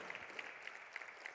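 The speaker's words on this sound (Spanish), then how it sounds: "Aplausos a Cristo" Applause from a church congregation during a Spanish-language worship service, a steady wash of many hands clapping at close range, with faint crowd murmur and no clear speech.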